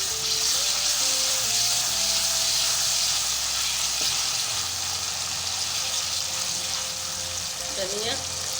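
Onions frying with ginger garlic paste in a pan for Lahori black pepper chickpeas hiss in a steady, close, bright sizzle, with occasional stirring scrapes and faint voices underneath.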